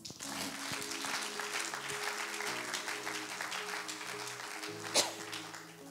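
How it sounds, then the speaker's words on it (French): A church congregation claps together in steady, dense applause that fills the room, with voices mixed in beneath the clapping and one sharp louder clap or shout near the end. "Acclame pour le Seigneur."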